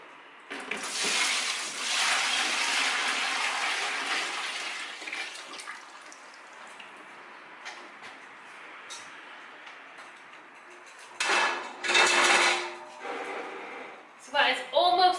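Cooling homemade dandelion wine liquid pours in a steady, splashing rush into a sterilised one-gallon fermenting bucket, fading to quieter trickles, then a few louder sloshes and clatters near the end.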